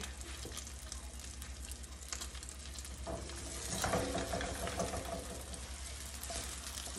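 Three eggs frying in a pan give a steady close sizzle and crackle, with a brief burst of louder spitting in the middle and no talking.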